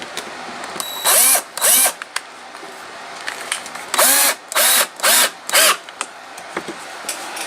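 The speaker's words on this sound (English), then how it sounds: "drilling the holes in." A power drill bores holes through a wooden jig in short bursts: two whines, a pause, then four quick close bursts of motor whir, each rising and falling, with faint clicks between.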